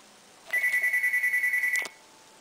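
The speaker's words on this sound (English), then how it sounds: "Sorry about the phone." A telephone rings indoors in a short burst of rapid, trilling electronic pulses that lasts about a second and a half, at moderate distance with no talk over it.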